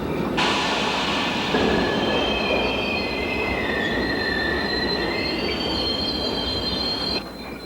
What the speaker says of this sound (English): He made his way to the controls and pulled the emergency brake.